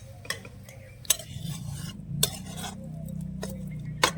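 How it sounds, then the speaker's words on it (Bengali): A spoon stirs a potato filling in a pan, sharp metallic scrapes and knocks landing every second or so over a low, soft sizzle. "এবার নেড়ে চেড়ে ভালো করে মিশিয়ে নেব।"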